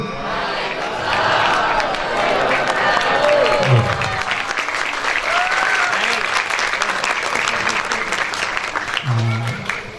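Sustained applause from an audience at a scientific debate event, broad dense clapping running through the whole stretch with murmuring voices mixed in.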